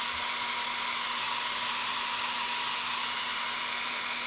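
Hair dryer running continuously at a craft livestream, a loud, steady whooshing blow with a constant motor hum and no change in level, no one talking over it.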